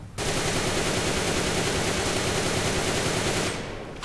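A Happy Snow toy gun fires continuously from a seated position, a loud, harsh, unbroken buzzing rattle like rapid automatic fire, stopping abruptly near the end and leaving a fading hiss.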